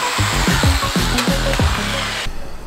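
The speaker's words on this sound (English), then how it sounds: "we've got to cut the radiator air deflectors on the front" A power tool cutting the plastic radiator air deflectors on the front of a Mitsubishi Triton: a loud, close whining buzz with rhythmic chattering strokes, then a sudden stop.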